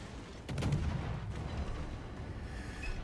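Naval guns firing in World of Warships during a battle, a heavy boom at the start rolling into a rumbling tail with low ambient game noise after.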